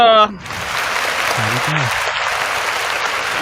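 Applause from a small podcast audience, a dense, steady crackling patter like frying grease, with a voice speaking briefly at the start.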